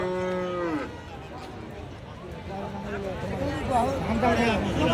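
Cattle, among them bulls, low repeatedly at a busy border-area livestock market where Sahiwal cattle are traded, with several close, drawn-out moos over steady crowd chatter.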